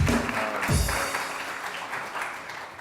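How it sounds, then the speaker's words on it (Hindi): Studio audience applause on a TV morning show, a steady broadband patter of clapping that holds at moderate loudness for the whole stretch and does not fade. "बहुत सारी तालियां"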